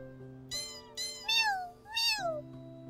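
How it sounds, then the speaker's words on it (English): A series of four short cat meows in quick succession in the video game DogDogDog, the last two longer and rising, heard close over a steady synthetic hum. "Wait, this is cat."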